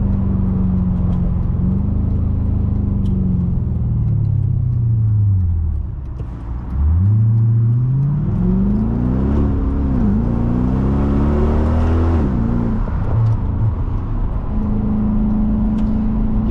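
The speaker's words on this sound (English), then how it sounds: "the M156 is a very special engine." A 2007 Mercedes-Benz CLK63 AMG Cabriolet's modified M156 V8 drives and revs up close, pitch rising and falling through gear changes, with a brief dip before pulling hard again.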